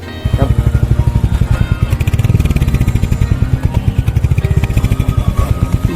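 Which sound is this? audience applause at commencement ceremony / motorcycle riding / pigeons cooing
motorcycle riding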